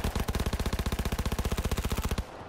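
Automatic gunfire in the video game Cyberpunk 2077: a rapid, evenly spaced burst of about twenty-five shots over two seconds, crisp and fairly close, then stopping abruptly.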